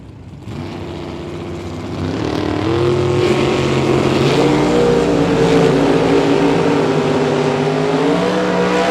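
Drag race cars, an S10 and a small 1983 Toyota, rumble at the line and then launch, engines building into a loud, sustained roar as they accelerate away at a bracket race.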